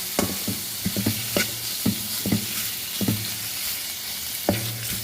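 Panang curry paste being stirred in a pan over low heat: a soft continuous sizzle broken by repeated scraping strokes of a utensil, close and fairly regular.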